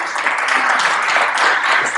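Dense applause from the audience at a heritage panel session welcoming a panelist, continuous and fairly loud clapping from a full room throughout.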